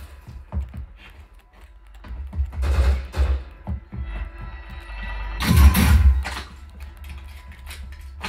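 Gunfire from the video game Call of Duty Warzone 2 played through a Sennheiser AMBEO Plus soundbar and subwoofer, bursts of shots with deep booming bass at a moderate volume and no voices.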